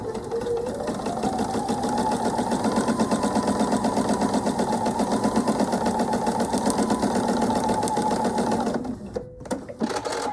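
A sewing machine stitches through quilt fabric and a paper pattern in one long steady run, a loud close rhythmic hum that stops near the end with a few clicks.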